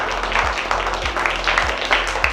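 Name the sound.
children clapping loudly in a classroom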